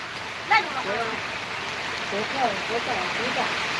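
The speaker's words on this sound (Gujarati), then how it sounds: "અત્યારે પણ જો તમને દેખાઈ રહ્યો છે જબરજસ્ત મસ્ત વરસાદ ચાલી રહ્યો છે" Steady wash of rain falling, with a few faint distant bird calls and brief thumps over the constant patter.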